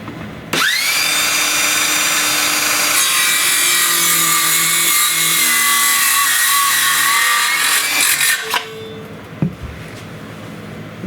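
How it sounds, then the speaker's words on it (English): A cordless power saw running on Makita batteries through a pod-style adapter rips through a wooden board, a loud, steady whining cut that runs about eight seconds close up, then winds down with a few clunks. "Let's see how it performs cutting a board."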